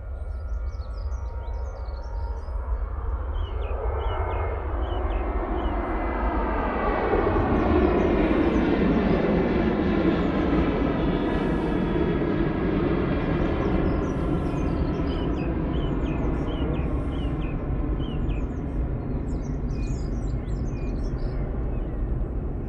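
A Ryanair jet takes off at Manchester Airport, its engine roar swelling into a loud, sustained rumble with a sweeping whine that peaks midway and then holds steady, heard from nearby without talk.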